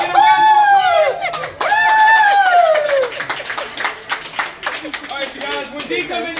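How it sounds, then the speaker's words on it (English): Restaurant crowd at a Texas Roadhouse cheering and applauding for a birthday, with loud whoops and shouts at first, then scattered clapping and chatter continuing steadily close by. "Can I get a round of applause?"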